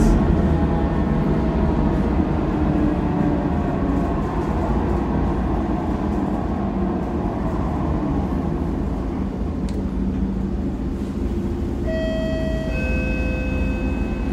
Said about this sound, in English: howling sound from the gearbox.